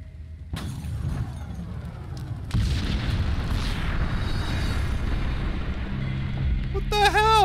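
A heavy explosion in the video game Max Payne blows out a top-floor suite, a deep booming blast with rumbling, shattering debris that rolls on for several seconds, ending in a brief ringing tone.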